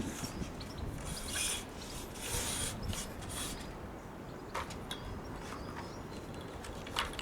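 A Karcher telescopic spray lance section being slackened and tightened by hand, giving a steady run of close plastic rubbing, clicking and ratcheting with no talk.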